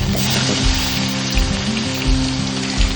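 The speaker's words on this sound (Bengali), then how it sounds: "তেলটা গরম হয়ে গেলে মাছগুলো এভাবে আমি ভেজে নেবো" Fish coated in salt and turmeric frying in hot oil, a steady dense sizzle like rain with a continuous crackle throughout and no talk.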